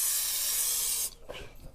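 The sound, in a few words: spraying oil into an air fryer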